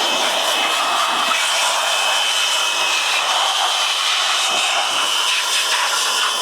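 An American Micronic air blower runs at full speed while cleaning a car's engine room after washing, a loud, steady, close-up roaring whoosh that holds constant throughout.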